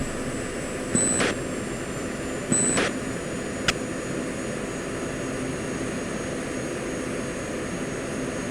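Fighter jet engine in the Falcon BMS flight simulator, a steady even whine and rumble at constant level, with a few short clicks and beeps over it.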